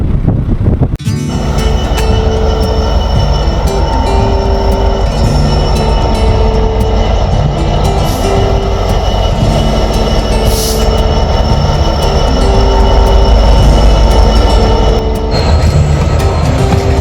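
Train arriving at Corrour station, a loud, continuous rumble of rail wagons with wheel squeal and clanking, close to the track with wind buffeting the microphone.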